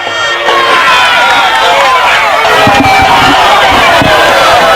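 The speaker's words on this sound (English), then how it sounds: "Clarkdale fans are booing." High school football fans at a Forest versus Clarkdale game raise a loud, sustained crowd noise of boos and jeers, a broad roar from the stands with faint thumps beneath.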